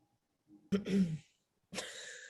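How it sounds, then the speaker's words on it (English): Throat clearing by a woman on a sales podcast: two short, close, rough rasps, the second following after a brief pause, with no speech. "you want to clear your throat?"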